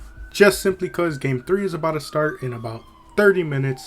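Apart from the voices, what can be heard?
police car or ambulance siren in the background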